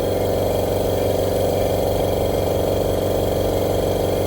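A GDG silent air compressor runs steadily, a constant mid-low mechanical hum with a fine rapid pulsing at even loudness throughout, with no talk over it.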